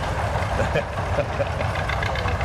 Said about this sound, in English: he's got a 1950 John Deere AR with manure spreader